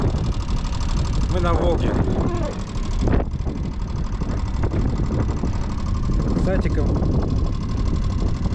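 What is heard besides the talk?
boat outboard motor running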